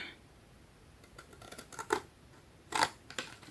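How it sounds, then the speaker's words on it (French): Scissors cutting paper for an advent calendar, a few quiet, close snips spaced irregularly across a few seconds with no talking. "Et je vais couper ici aussi."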